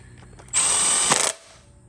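Impact tool driving cylinder head bolts on an Audi VW 2.0T TSI engine, one loud close burst under a second long with a whirring spin and a few rapid hammering impacts at the end.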